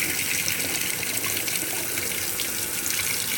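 A GE GTW680BS6JWS top-load washing machine fills with cold rinse water, a steady, loud gushing rush of water pouring into the tub, continuous and even throughout with no talking.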